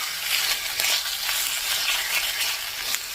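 Asparagus sizzling in a hot seasoned pan, a steady close crackle and hiss of frying with small pops and stirring scrapes, no voices.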